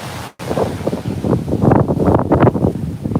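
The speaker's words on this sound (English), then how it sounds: "You could hear me and the wind too" Strong wind buffeting a microphone on a New York City beach, with surf rolling behind it; a brief dropout, then gusty roaring rushes rising and falling in loud, close bursts.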